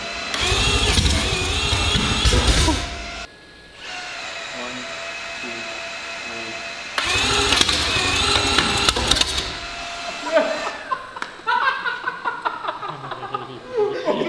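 A billet four-rotor rotary engine cranks and fires into a loud, raw roar, cuts out, then roars again before settling into a rough idle, with excited voices and laughter over it.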